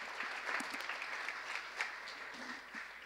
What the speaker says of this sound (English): Please join me in giving a round of applause to our distinguished panelists